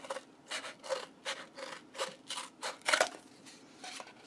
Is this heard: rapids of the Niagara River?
no